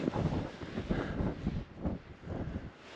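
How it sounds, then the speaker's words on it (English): Strong gusts on the Jura Crest Trail mountain path buffet the microphone in uneven low rumbling pulses, close and continuous. "It's crazy windy"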